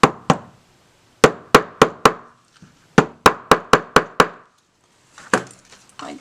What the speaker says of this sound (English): I like to take a little anvil and just flatten those staples down.